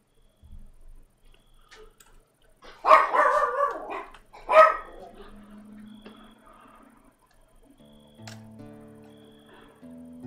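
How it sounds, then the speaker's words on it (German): Dogs bark in the medieval colony-building game Going Medieval, two loud bursts of barking in the middle, then quieter ticking and tonal game sounds, with no talk. "So, was bellen denn die Hunde schon wieder?"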